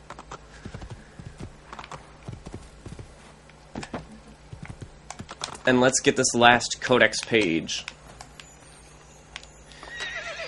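Horse in Assassin's Creed 2 neighing loudly mid-way, with clip-clop hoofbeats and scattered game sounds around it, while someone talks quietly over the start and end.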